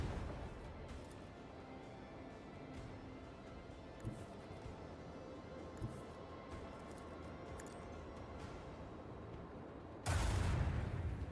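Video game shooting in a grimdark mode battle against xenos: a steady low barrage of muffled gunfire with a few sharper cracks, ending in a sudden louder blast of noise.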